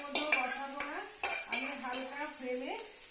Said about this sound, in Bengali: ভাতটা আমি এর মধ্যে মিশিয়ে দিলাম